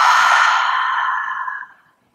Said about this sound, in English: exhale it out through the mouth